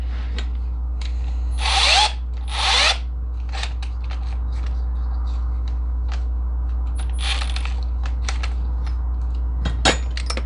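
A power drill with a Benchmark Abrasives drill bit whirs in a few short bursts, boring into metal, over a steady low electrical hum with scattered clicks and clatter.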